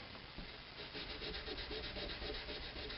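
A wad of polishing material rubs over the body of a Schecter Hellraiser electric guitar, already sanded to 800 grit, making a steady close-up scrubbing hiss in quick back-and-forth strokes.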